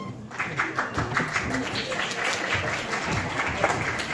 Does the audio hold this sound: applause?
yes